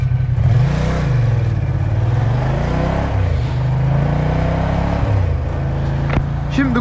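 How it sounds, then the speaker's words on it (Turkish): Ducati Diavel Carbon motorcycle engine running steadily at close range, a low throbbing idle with slight rises in revs, continuous throughout. "Böylece Ducati Diavel Carbon bize hayırlı uğurlu oldu abiciğim."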